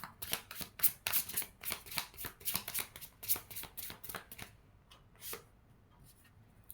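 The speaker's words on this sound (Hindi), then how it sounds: "my last shuffle" A deck of tarot cards shuffled in quick, quiet bursts of papery flicks and slaps, close up. The shuffling thins out and stops near the end, and no one talks.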